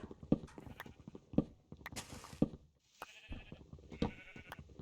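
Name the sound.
sheep eating grass in a video game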